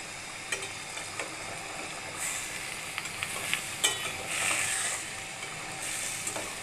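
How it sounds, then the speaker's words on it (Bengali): Chicken and chana dal with spices being gently stirred in a pan, giving a soft steady sizzle broken by scattered scraping clicks of the spoon, close and moderately quiet, with no talk. "এখন আমি এটাকে আলতোভাবে নাড়াচাড়া দেব।"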